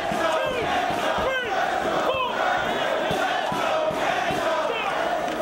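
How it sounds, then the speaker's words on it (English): A wrestling crowd at a tag-team match cheers and chants loudly in support of the wrestlers, a dense continuous roar of voices with rhythmic surges throughout. "Crowd voicing their support for their chosen wrestlers."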